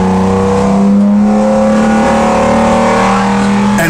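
A V12-swapped LS Camaro engine revs hard under load on a dyno, a loud, steady harmonic drone holding for several seconds with no talk over it.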